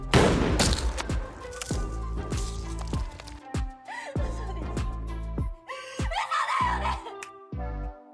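Rapid bursts of gunfire from a zombie hunter shooting zombies in a film, with sharp repeated shots and booming impacts across the scene, some shots in quick volleys and others spaced apart.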